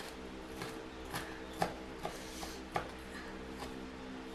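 A knife chopping an onion on a board, several separate sharp taps at an irregular pace over a low background hum, one or two of them louder than the rest.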